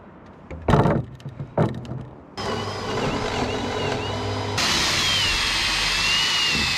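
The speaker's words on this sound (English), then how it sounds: "get this first one drilled and then start putting hardware in" Power drill boring into a wooden cross board: a few knocks and handling thuds come first, then a loud continuous whirring drill run that rises in pitch and intensity partway through.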